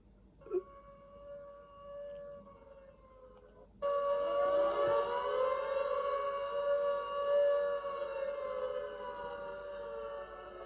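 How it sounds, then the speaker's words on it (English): A civil defense siren from a mobile phone emergency alert on Sunday 23 April 2023 holds a steady tone, then swells louder into a sustained multi-tone wail that continues without a break, with no talk. "what is the siren even going to sound like?"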